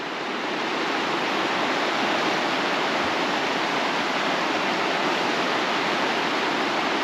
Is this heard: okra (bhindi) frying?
no